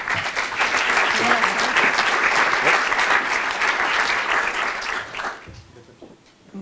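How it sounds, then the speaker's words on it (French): Conference audience applauds a speaker with strong, sustained clapping from a crowd in a hall, fading out toward the end as the room quiets. "Vous avez le droit d'applaudir."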